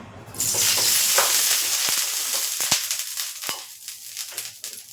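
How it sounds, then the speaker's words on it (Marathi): Oil on a hot tawa bursts into a loud sizzle that carries on steadily, with a few sharp spits and crackles as it gradually settles. "तवा तापला आता त्याला तेल लावून घेऊया"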